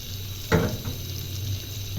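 Jaggery-sweetened water poured into a pot of rice in a home kitchen: a close splash at the start, then a steady low trickle and wet rumble that continues to the end.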